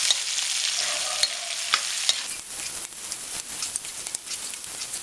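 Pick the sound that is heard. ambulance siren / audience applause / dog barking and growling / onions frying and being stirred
onions frying and being stirred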